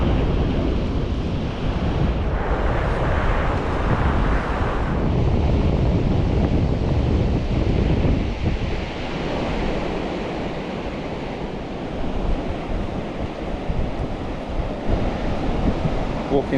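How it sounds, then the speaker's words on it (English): Ocean waves break on a beach in a continuous, loud roar of surf, with gusts of wind buffeting the microphone and the wash swelling and easing over time. "Walking along the beach with Eddie."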